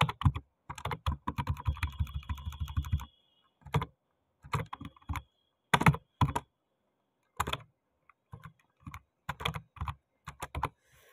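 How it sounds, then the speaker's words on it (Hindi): Computer keyboard typing while writing HTML heading tags, quick clattering key presses in bursts separated by short pauses, close and fairly quiet. "और पहले यहाँ पे जो 1 2 3 जो अपन यहाँ पे टाइप इन कर लेते हैं"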